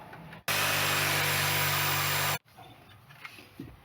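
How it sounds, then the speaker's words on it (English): A jigsaw cutting a circle buzzes loudly for about two seconds of continuous cutting, then stops abruptly, leaving faint rustling afterward. "I'm going to get my jigsaw and I'm going to just cut around in that circle."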